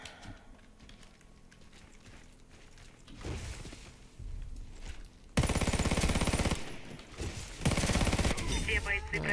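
UZI PRO submachine gun fire in the shooter Warface, starting with scattered quieter action and then breaking into two long, loud, rapid automatic bursts close up.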